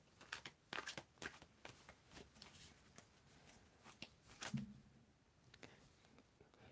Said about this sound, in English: Just tell me when to stop shuffling.